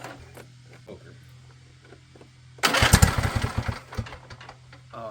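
An unchoked Husqvarna two-stroke engine, with its idle set screw removed, is pulled over and sputters into a loud, rough, close-up burst of running before fading and faltering, with faint background noise before the start.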